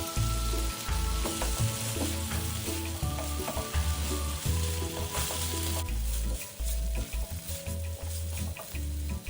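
Spices and chili paste fry loudly in a pan for chili squid, a dense continuous sizzle with intermittent stirring scrapes and clanks of the spatula, no voices.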